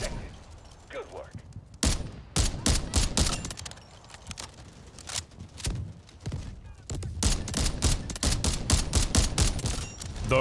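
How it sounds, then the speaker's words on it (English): Rapid bursts of gunfire crack repeatedly in Delta Force: Hawk Ops, sharp loud volleys in clustered rhythms with short gaps, and a faint voice early on. "Where am I getting shot from?"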